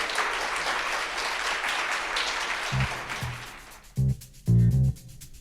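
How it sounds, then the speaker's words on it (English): Audience applause closing a live SXSW EDU panel of teen journalists, a broad wash of clapping that fades out, followed by a few louder low thumps near the end. "give these guys a round of applause"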